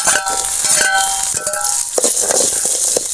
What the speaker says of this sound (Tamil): இப்போ வந்து வெங்காயம் வந்து வதங்கிக்கிட்டு இருக்கு